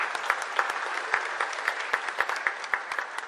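An audience at a bluegrass band show claps steadily, with sharp individual claps popping out of the dense applause for a few seconds.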